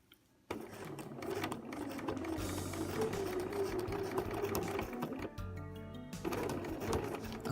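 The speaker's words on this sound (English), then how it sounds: "I'm going to back stitch" After a brief quiet moment, a sewing machine starts up and runs steadily along a 5/8-inch seam of a spring coat, back stitching with a close, even whir, pausing briefly near the end before resuming.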